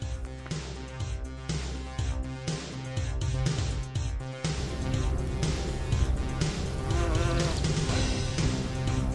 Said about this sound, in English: Bumblebees are often referred to as nature's pollinator.